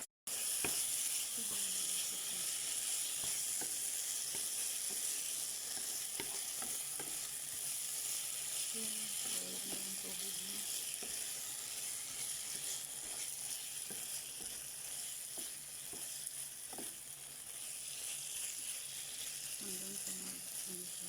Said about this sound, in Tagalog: I-fry natin siya guys. Lalagyan natin siya ng konting oil at asin.